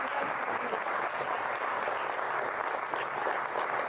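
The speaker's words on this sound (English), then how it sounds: "I'd like to give everyone in the room a big round of applause." Steady applause from a small room audience at a live podcast recording, continuous and fairly soft, with the clapping holding an even level throughout.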